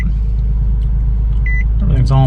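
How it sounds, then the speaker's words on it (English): A Nissan 370Z with a Pedal Commander PC51 throttle controller fitted idles quietly with a low rumble. A short dashboard chime sounds, then the engine cranks and fires up loudly at the very end. "We'll fire it up."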